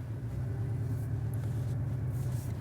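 Cabin view of a 2017 Porsche 718 Cayman's four-cylinder engine, a steady low droning rumble heard from inside the car while driving, continuous and fairly loud with no talk.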